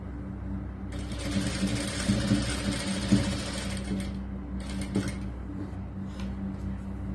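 A sewing machine runs a dummy tacking stitch through the lining of a churidar top, a steady close mechanical whir with a faint regular ticking, uninterrupted for several seconds and then fading toward the end.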